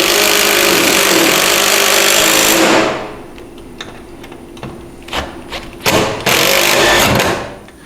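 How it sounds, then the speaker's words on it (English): An impact driver fitted with a Phillips P3 bit tightens bolts while mounting doors on a Can-Am Defender, hammering in a loud continuous burst for about three seconds, then several shorter rattling bursts after a pause. "Now utilizing our Phillips P3 bit and our impact driver and our 7/16 wrench, we'll go ahead and tighten this down"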